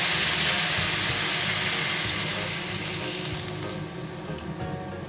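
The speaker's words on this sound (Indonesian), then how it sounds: "lalu kita tambahkan air." Water pouring into a pan of seasoning for Indonesian grilled chicken, a steady loud splashing gush, close up, that slowly eases as it fills.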